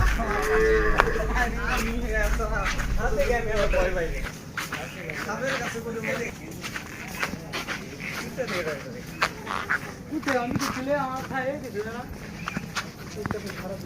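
A cow moos repeatedly, with long drawn-out calls, in a flooded village on a rainy day, over a busy background of people talking nearby.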